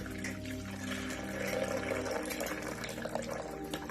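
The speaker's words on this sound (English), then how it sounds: "I'm mixing my paint, which is Raw Silk by Fusion Mineral Paint, into water" Fusion Mineral Paint in Raw Silk being stirred into water for a color wash on a fireplace, a steady wet swishing and liquid churning that runs close and continuous, with faint clinks and no talk.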